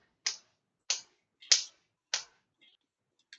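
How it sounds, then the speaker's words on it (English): A quiet, polite golf clap: four soft, crisp hand claps at an even, unhurried pace, close by with silence between them. "it's a golf clap"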